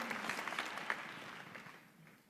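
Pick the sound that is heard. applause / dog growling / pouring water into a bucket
applause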